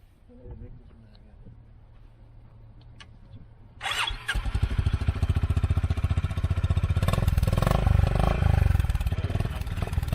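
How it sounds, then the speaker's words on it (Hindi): A Honda Highness CB350 motorcycle cranks and fires up, then settles into a loud, close, steady thumping idle with a rapid even beat; someone talks briefly before the start. "अब सुन लेते हैं होंडा हाइनेस का साउंड"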